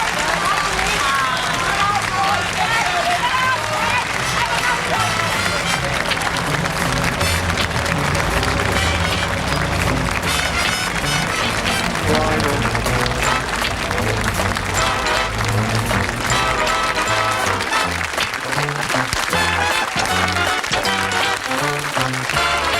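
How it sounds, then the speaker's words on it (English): Sitcom studio audience applause at a series finale, a broad sustained roar of clapping and crowd noise layered with music and voices, loud and continuous from start to finish. "It's just applause now, isn't it?"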